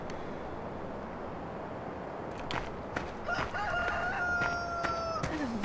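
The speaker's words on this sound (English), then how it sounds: "That's a very loud cockerel." A loud rooster in the Farming Simulator 2013 video game lets out a single drawn-out crow near the end, over a steady ambient farm background hiss.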